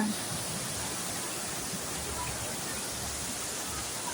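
Thao To waterfall pours in a steady, even rush of falling water with no breaks, moderately loud and filling the whole scene.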